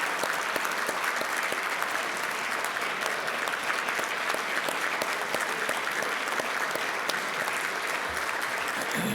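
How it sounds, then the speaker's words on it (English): A room of Rotary meeting attendees gives firefighters a sustained round of applause, a thick, even wash of clapping that holds at constant loudness for the full nine seconds. "Let's give the fire and firefighters, please stand, that we have, give them a round of applause"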